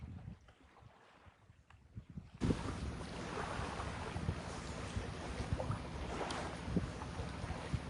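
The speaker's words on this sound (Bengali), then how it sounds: "কি একটা শান্তির বাতাস বইছে এখানে" Wind blowing across Kaptai Lake in Bangladesh, starting quiet and then rising into a steady, full rush of breeze buffeting the microphone, with faint water sounds beneath.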